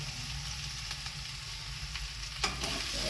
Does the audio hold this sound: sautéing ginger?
yes